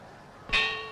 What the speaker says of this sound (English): There's the gong for round 3